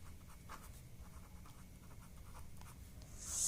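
Pen on paper writing out an equation, soft continuous scratching strokes at close range with no voices, swelling a little louder near the end.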